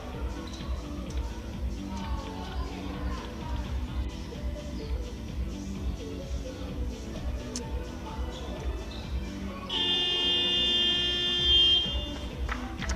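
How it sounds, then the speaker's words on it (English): A single sustained electronic buzzer sounds at the end of a quarter in a women's EuroCup basketball qualifying game, rising loudly over the low murmur of the arena for a few seconds before the clip ends. "And there we have the buzzer, and we're all ready for the fourth quarter."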